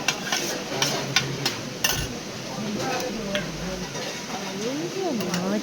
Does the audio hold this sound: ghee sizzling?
yes